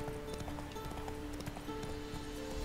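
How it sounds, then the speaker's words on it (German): Horse hooves clip-clop at a slow walk in The Witcher 3, a quiet, steady rhythm under low ambient game sound and tonal music. "Ein einsames Pferd."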